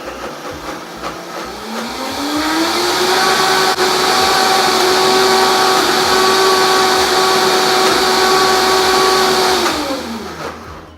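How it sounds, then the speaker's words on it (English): A Vitamix blender grinds hummus, its motor rising steadily from low speed to a loud, sustained maximum whine, holding there, then winding down at the end; no talk. "this is the initial grind. We do that on low speed. And then we just turn it slowly up to maximum speed."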